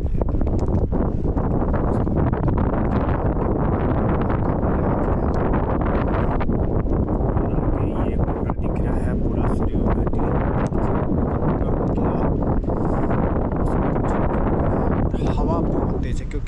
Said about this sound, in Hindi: बहुत बहुत तेज हवा चल रही है।